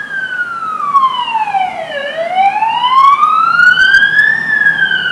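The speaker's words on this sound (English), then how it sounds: "Another ambulance." An ambulance siren wails along a busy main road, a loud, sustained two-tone sweep that dips and then climbs again, with passing traffic rumbling underneath.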